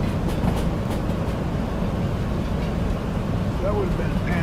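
Train cars roll steadily along rails in the Derail Valley simulator, a heavy freight of 33 cars and 1250 tons giving a constant loud rumble with faint rhythmic clatter throughout.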